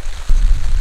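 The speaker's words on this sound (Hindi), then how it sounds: "यहाँ पे बारिश हो रही है" Steady rainfall hissing and pattering on surfaces nearby, a dense wash of noise with a low rumble underneath and no voices.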